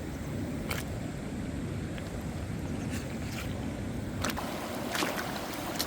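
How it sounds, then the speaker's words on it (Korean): Water trickles steadily over stones in a stream along the South Han River near Danyang, a constant soft rushing wash with a few brief clicks and splashes standing out. "자, 물이 이렇게 졸졸 흐르죠."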